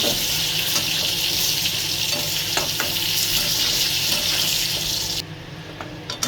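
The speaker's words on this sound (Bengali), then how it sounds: "তাই আমি আলুটারে সুন্দর করে আগে ভেজে নিব।" Potatoes fry in hot oil with a loud, steady hiss and crackle, a few sharp ticks of utensils, the high sizzle dropping away near the end.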